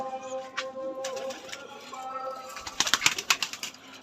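Flying pigeons kept for racing are heard nearby, with soft cooing early on and then a burst of rapid wing flaps and clatter toward the end, over a low background hum.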